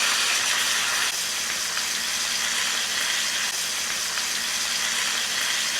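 Pork chops sizzle steadily in a hot pan after being flipped, a loud continuous hiss that fills the scene with no pause and no talking.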